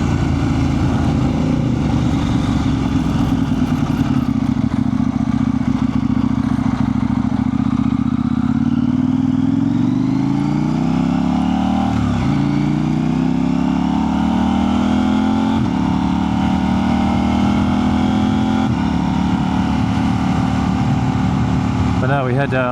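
Steady engine drone from a motorcycle on a ride, pitch rising and falling through gear changes and accelerations, loud and continuous with wind noise throughout.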